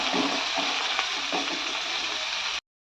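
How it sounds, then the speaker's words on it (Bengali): Onion stalks frying in oil beside a bubbling Bengali fish curry, two pans on the stove in a village kitchen; a steady, close, broadband sizzle and hiss with soft bubbling that runs unbroken and cuts off abruptly. "এখানে পেঁয়াজ কলিটা ভাজা হচ্ছে, আর এই যে মাছের ঝাল, তো ফুটছে মাছের ঝালটা।"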